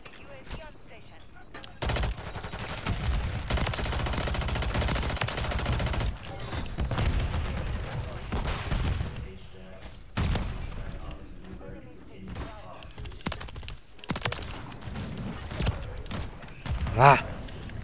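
Video game gunfire in repeated bursts and single shots, some heavy sustained volleys and scattered sharp cracks, moderately loud, with players talking over it.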